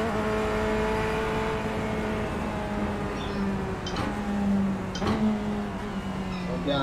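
Race car engine on the Nordschleife climbing steadily through the revs with a sustained tonal drone, close and continuous, with a couple of brief clicks or gear-change blips partway through.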